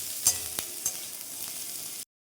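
Chopped onions frying in a modest amount of oil in a home kitchen: a steady, close, hissing sizzle with a few sharp stirring clicks near the start, running continuously before cutting off abruptly.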